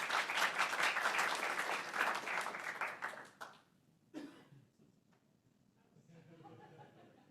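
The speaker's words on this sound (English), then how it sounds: "So let's give ATS another round of applause" Applause rises from attendees at a school district governing board meeting, a dense crowd clapping for about three seconds before thinning into scattered claps, a cough and faint murmuring.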